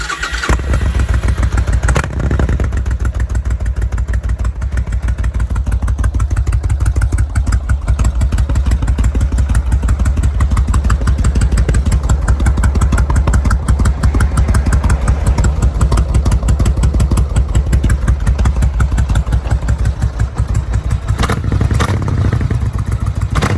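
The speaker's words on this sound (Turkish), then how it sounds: "şöyle bir çalıştırayım. Siz de bir sesini duyun." A Suzuki VL 1500 motorcycle engine starts and runs close by, a loud steady V-twin throb with a rhythmic idle pulse and mechanical clatter, lasting throughout without talk.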